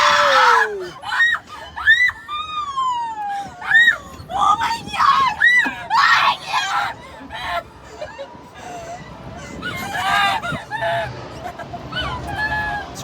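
Teenage girls shriek and squeal again and again in a swinging Ferris wheel car, with high piercing screams in bursts, some laughter and excited chatter between them, close and loud.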